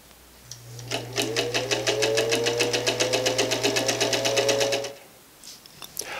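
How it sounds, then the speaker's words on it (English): An Elna Grasshopper sewing machine starts up and stitches steadily for about four seconds, a rapid even needle rhythm over a motor hum whose pitch rises slightly, then stops, leaving faint clicks. "Rotating the main wheel by hand so that the needle is all the way down helps the machine get a running start on the first stitch."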